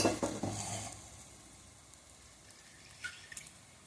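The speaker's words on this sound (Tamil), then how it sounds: "அடுத்து வந்து தண்ணி ஊற்ற போகிறோம்" Water hits a hot pan of sautéed masala for mutton bone curry with a brief burst of sizzling that quickly dies down to a faint hiss, with a few small drips afterward.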